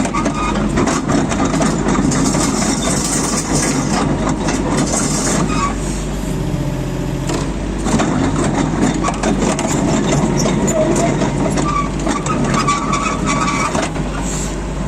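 A Yanmar YB20 mini excavator's diesel engine runs loud and steady at close range while the machine drives back after turning, with a continuous low rumble and mechanical rattle throughout.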